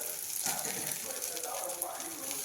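Coriander vadi, a fried herb-and-gram-flour snack, sizzling in shallow oil in a pan, a steady crackle and hiss with a few louder pops, fairly close and even throughout.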